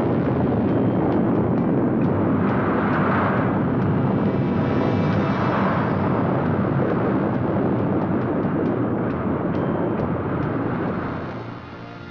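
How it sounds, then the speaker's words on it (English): Shaped explosive charges set off at a Canadian test range to simulate a nuclear weapon's blast give a loud, sustained roaring rumble with no distinct separate bangs, holding steady for about eleven seconds before fading slightly at the end. "shaped explosive charges were used to simulate blast effects of nuclear weapons"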